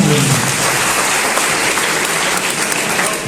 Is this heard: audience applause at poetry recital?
yes